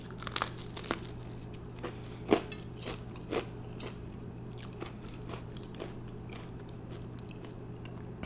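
Crunchy Popeyes fried chicken bitten and chewed close up, with scattered crisp crackles and a few sharper crunches over a quiet, steady background hum.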